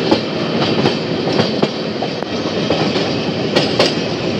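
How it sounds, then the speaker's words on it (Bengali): Amrit Bharat Express rolling slowly across the Farakka Barrage: a loud, steady rumble from inside the train with repeated clickety-clack wheel beats over the rail joints and no talk. "আর ব্যারেজে কিন্তু ট্রেন ধীর গতিতেই চলছে ইতিমধ্যে।"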